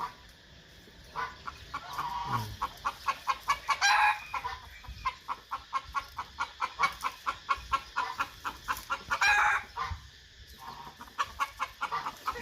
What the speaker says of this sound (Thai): ไก่ประหลาดเด้อไก่ประหลาด